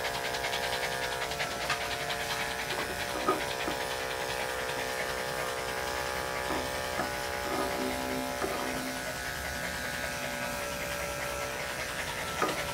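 A cockapoo pants heavily and steadily while being groomed, the fast breathing close and continuous over a constant electric clipper-like buzz, with no talking.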